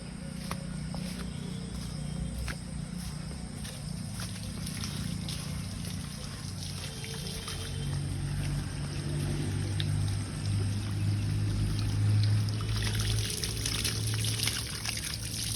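Water trickles and pours steadily onto the fresh cement of a new building under construction in a village, a continuous outdoor splashing that swells slightly toward the end over a low background rumble.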